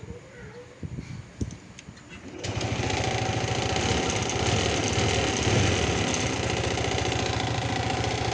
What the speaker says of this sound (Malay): Kita akan cuba start motor ni ya.